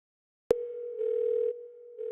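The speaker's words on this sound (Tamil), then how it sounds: "நம்பர் இருக்கு, சரி ஃபோன் பண்ணுவோம்." A telephone dial tone sounds when a number is dialled: a steady, clear electronic tone that starts abruptly after silence and holds continuously with slight changes in timbre, close and alone without talk.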